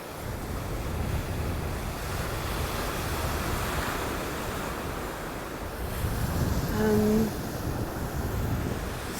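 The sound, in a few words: ocean waves on Sanibel beach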